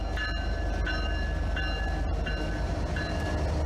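A Norfolk Southern freight train led by an SD78 locomotive, with two BNSF GEVO units trailing, rumbles past close and loud in a steady roar, while a high tone sounds in several short repeated blasts over it.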